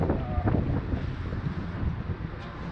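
Wind buffets the microphone with a continuous low rumble and gusty roar throughout, close and fairly loud, with no clear voices over it.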